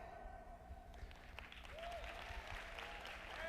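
Audience applause fills a convention hall at an NAACP youth night, a steady wash of clapping that swells slightly toward the end, with faint whoops over a low hum.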